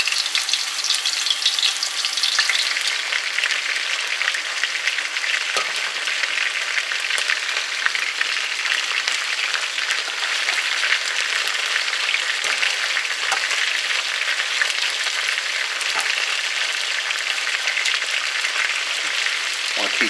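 Chicken pieces for curry brown in a pot of hot oil, giving a loud, constant sizzle and crackle with no break, close by and with no voices.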